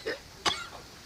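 One short, sharp cough bursts out in the middle of a quiet indoor moment in a comic domestic sketch, with faint throaty murmurs around it.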